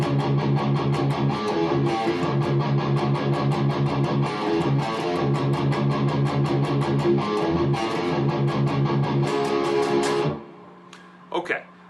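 Distorted guitar playing a fast, driving outro riff that varies a breakdown riff with a major third, fingered first finger, second finger, open string; loud and continuous, ending abruptly with faint sounds after.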